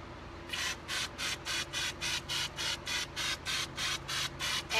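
Hand pump sprayer coating a wreath with flocking, about fifteen evenly spaced hissing spray bursts in a steady rhythm, close and fairly quiet, with no voices.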